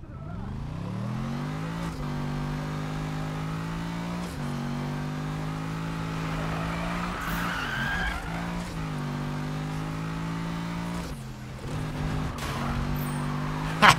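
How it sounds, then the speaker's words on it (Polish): Deep V8 car engine in Need for Speed 2015, holding a loud sustained growl with rising and falling revs, broken by tire skids and squeals during drifting, continuous throughout with no talking. "Chcę posłuchać dźwięku silnika."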